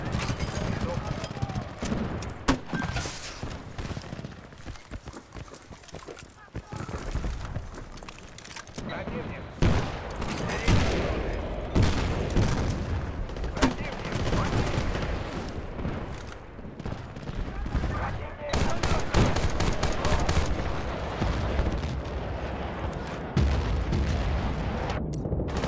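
Gunfire in an online multiplayer shooter game: a busy stream of sharp shots and rapid automatic bursts, with occasional heavier booms, continuing for about twenty-five seconds while voices talk over the action.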